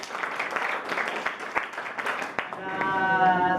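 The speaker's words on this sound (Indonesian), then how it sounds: "Kasih tepuk tangan ya." Participants in a teacher-training session clap after a group presentation, giving dense, moderately loud applause that fades as a voice and a faint tonal hum take over near the end.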